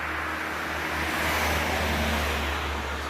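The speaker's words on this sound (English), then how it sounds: "it's just a car coming. Quite noisy along this street." A car passes along a noisy street, a steady, loud engine and tyre rumble holding throughout with continuous road roar, close by and without voices.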